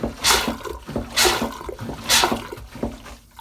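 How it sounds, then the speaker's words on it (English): Manual marine sea toilet on a small boat being hand-pumped to draw in seawater for flushing: three rhythmic strokes of gushing, sloshing water with creaks from the pump, close and clear. "just pump in the handle, it brings in the seawater from outside"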